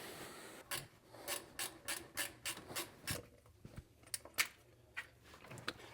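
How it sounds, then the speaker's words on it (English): A wrench loosening bolts on a shop truck's engine cover, heard as a quick run of rhythmic ratcheting clicks followed by scattered metallic scrapes and taps, close and fairly quiet, with no talking. "Just use a wrench on it."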